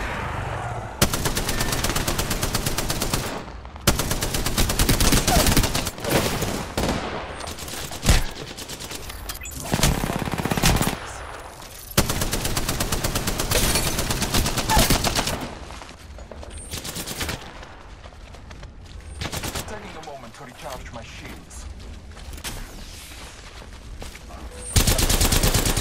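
Gunfire in the video game Apex Legends during a one-versus-three fight, dense bursts of automatic fire and single shots in loud, close stretches separated by brief lulls.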